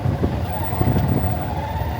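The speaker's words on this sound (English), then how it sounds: "Sorry, I'm burning the clutch a bit." A motorbike engine hums and strains as the clutch slips, its low rumble slightly uneven and close by, with no voices over it.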